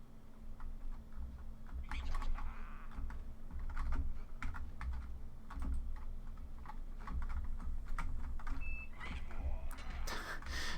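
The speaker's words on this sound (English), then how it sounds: "I can't have many keys pushed in. It's a very cheap keyboard" Keys on a cheap computer keyboard clack in quick, uneven bursts during DOS and Windows 95 gaming on an HP Vectra VL, close and crisp over a low steady hum, with a brief beep near the end.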